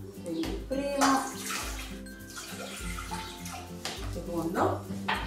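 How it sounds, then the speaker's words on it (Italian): Two glasses of water pour steadily into a pot for boiling, a continuous splashing stream with music and a voice in the background. "Inizio mettendo a bollire 2 bicchieri di acqua."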